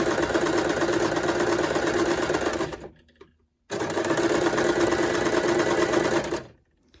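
A sewing machine runs in two fast, steady bursts of stitching, close and loud, with a short pause between them and a stop at the end.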